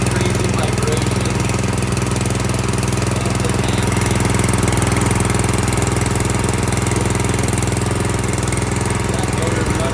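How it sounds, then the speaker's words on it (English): Engine of a rear tine tiller running after replacement, a loud steady mechanical drone with fast even knocking pulses, close and unbroken throughout. "That motor running."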